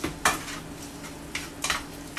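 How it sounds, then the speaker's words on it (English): A spoon clinks against a pot while paprika is stirred into a green bean casserole mixture with bacon, giving a few distinct scraping knocks spread over two seconds at moderate, close range. "And I stir that in."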